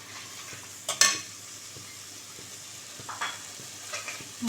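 Fenugreek leaves sauté in hot oil with masala for methi matar malai. A spoon scrapes and clatters against the pan once, sharply, near the start, and soft stirring and a low sizzle follow.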